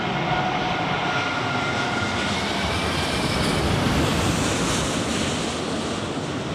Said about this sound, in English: Oh, it sounds like a steam train sometimes, man.